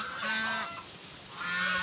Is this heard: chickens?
yes